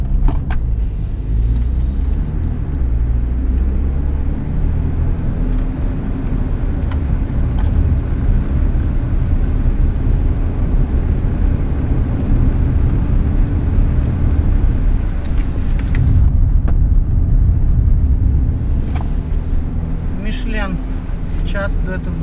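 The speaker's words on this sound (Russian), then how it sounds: "Едем на прохождение круга. Называется wet handling." Car driving a wet handling test lap on a tire-testing track in Finland, a loud steady engine and road rumble from inside the cabin, with someone talking over it throughout.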